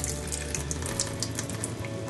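Water drains from the rear valve of a Grainfather brewing system in a steady, close hissing and splashing stream with no talking.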